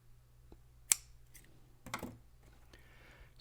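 Scissors snip cotton wick for a rebuildable vape atomizer, one crisp close cut followed by a softer rustle, in a quiet room without speech.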